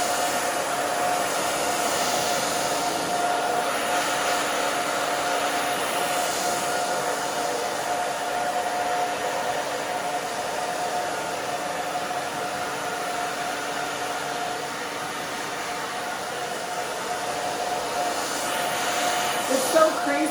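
A hair dryer blows steadily and loudly through the whole stretch while thick hair is dried, its broadband whoosh constant with only slight shifts as it is moved back and forth.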